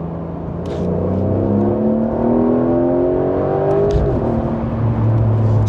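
Porsche 911 GTS T-Hybrid engine with the standard exhaust, still in its warm-up phase, rises in a loud steady drone with pitch climbing through gears, a brief dip and shift near the end, close and continuous with no talking.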